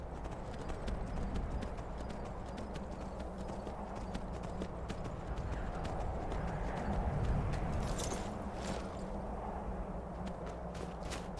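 Hooves of a horse in Skyrim clopping steadily and rhythmically, a sustained clatter over a low background hum, with a few brighter impacts near the end.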